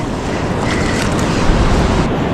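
Surf washing in on a razor clam beach, a dense, loud rush of water and wind noise close to the microphone, continuous with no voices.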